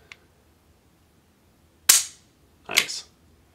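Trigger reset on a Grand Power P40 10mm pistol: a faint early tick, then two distinct sharp metallic clicks about a second apart, close and clear against quiet background.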